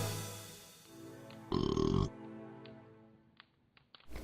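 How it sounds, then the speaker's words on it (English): A short, loud, gravelly burp in the King's Quest II video game, about half a second long, standing out against faint background game sounds. "Burp."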